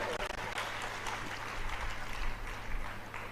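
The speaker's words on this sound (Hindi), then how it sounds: "तालियां बड़ी कमजोर है" Weak, thin applause rises from an audience at a religious discourse, soft and fairly distant, lasting a few seconds.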